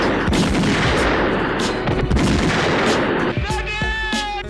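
Gunfire from two-handed shooting in a film scene, a dense run of loud close shots mixed with music and effects, ending in rapid bursts.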